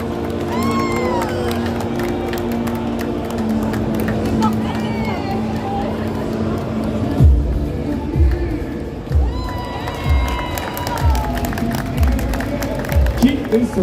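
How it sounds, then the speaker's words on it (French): A crowd at a gaming convention cheers and claps for an Assassin's Creed cosplayer on stage, with shouts and whistles over a loud hall ambience, and a presenter's voice amplified through the speakers. "sur vos applaudissements"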